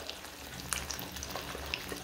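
Eggs cooking in a pan on medium heat give a steady, gentle sizzle and fry, with occasional small pops and crackles, continuous and close, with no voices.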